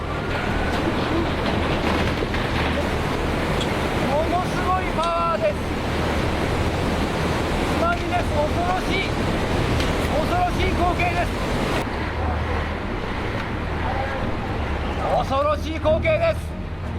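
Ocean waves crash loudly and steadily onto a coastline, with a constant roar of surf and wind and voices talking over it.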